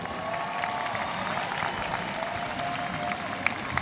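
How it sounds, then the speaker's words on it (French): An outdoor audience at an evening fireworks and dance festival applauds the pyrotechnics crew, with steady, dense clapping from a distant crowd at a moderate level throughout. "S'il vous plaît, applaudissez-les."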